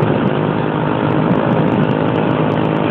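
A Factor 125 motorcycle's engine runs steadily and loudly up close in traffic, a continuous buzzing drone for the whole stretch, with no talk.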